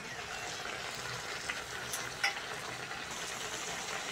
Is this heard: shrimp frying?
yes